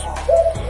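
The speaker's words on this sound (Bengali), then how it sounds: "আমার বাসায় ঘুঘু আছে, ঘুঘুটে ডাকছে।" A dove coos indoors in a house, a short, soft hooting call rising over a low steady background hum, close and fairly clear.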